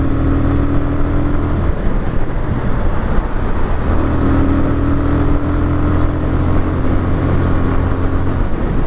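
A MASH Six Hundred motorcycle cruises in fifth gear at about 5500 rpm, its steady engine drone blended with loud, constant wind rush on the road.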